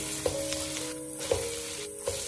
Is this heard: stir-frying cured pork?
yes